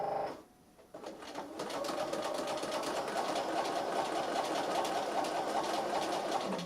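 A sewing machine starts up after a brief pause and runs a fast, even run of narrow zigzag stitches, the needle's rapid ticking close and steady with no talking.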